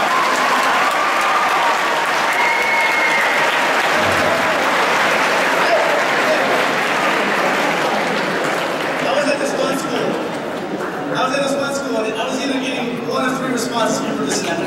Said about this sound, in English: Y'all can clap, because that poem was dope.